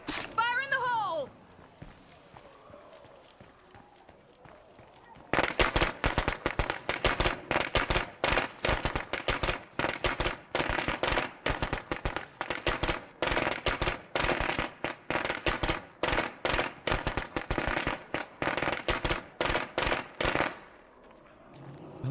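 Rapid volleys of loud explosive blasts and crackling bursts in State of Decay 2, dense and continuous for about fifteen seconds after a brief lull, with a voice heard near the start.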